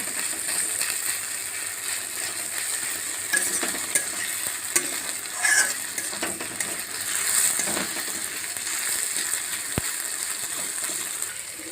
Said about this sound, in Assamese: আলুৰ সৈতে ভাজি ল'ব।